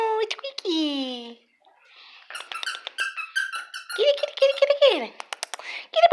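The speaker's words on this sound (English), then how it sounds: "Oh no, it's squeaky." A squeaky dog toy gives repeated sharp, high squeaks in quick bursts, up close and fairly loud, mixed with a person talking to the dogs in an excited, high-pitched voice.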